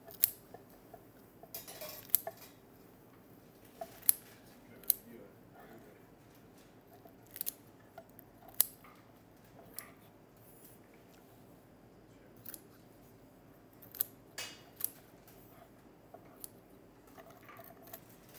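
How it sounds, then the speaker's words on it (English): Kitchen scissors snip through duck carcass bones for pressed duck, sharp isolated crunching cuts spaced irregularly every second or two, close and loud over a quiet restaurant room tone. "So we cut the bone in pieces."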